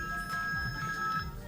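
A phone rings with a steady electronic tone held through the whole moment, sounding close over a low background hum, with no one talking.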